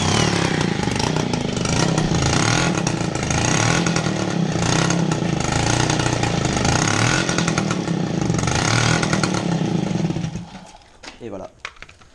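A Motobécane moped engine is spun over by a drill run in reverse and fires into a loud, steady buzzing roar that holds for about ten seconds, then cuts off, leaving a few quieter sputters and clunks.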